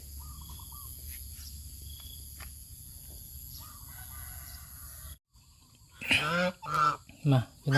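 After a steady insect drone, geese break into loud, close honking, several harsh calls in quick succession.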